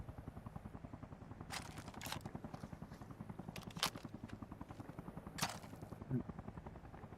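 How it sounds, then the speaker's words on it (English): Helicopter in the military shooter game Arma Reforger, a steady low rotor chop pulsing through the whole stretch, with a few sharp distant shots or impacts cutting in over it. "for some reason, I'm stuck in this helicopter"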